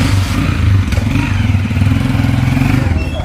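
A motorcycle engine runs close and loud with a steady, pulsing chug and slight revving throughout, with no talking.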